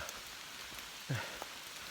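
Steady rain falling outdoors on a hiking trail, a constant soft hiss with a few louder drops landing nearby, no talking.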